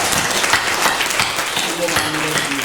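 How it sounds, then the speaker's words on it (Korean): A church congregation at a year-end Sunday service gives a round of encouraging applause, steady clapping from many hands while a voice speaks over it. "격려의 박수 한번 쳐드리겠습니다."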